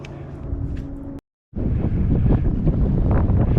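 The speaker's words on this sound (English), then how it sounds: "We tacked and we're headed east again, and the wind has picked up." Strong wind roars against the microphone aboard a sailboat off Mount Desert Island, Maine, in October, loud and steady, dropping out briefly before returning with full force.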